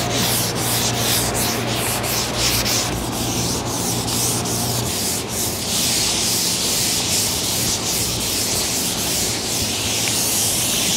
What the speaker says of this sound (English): Now let's remove those 180 sand scratches